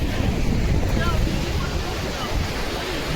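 Ocean waves surge and break continuously on the beach at Puri, a broad, roaring wash close by, with heavy wind buffeting the microphone and faint voices of people mixed in.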